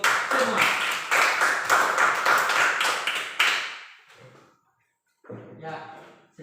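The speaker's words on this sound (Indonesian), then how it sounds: "Sekali lagi tepuk tangan untuk semua." A class of pupils claps in a lively burst for their good group discussion, the sharp, close clapping fading after a few seconds into a quiet pause and the teacher's voice.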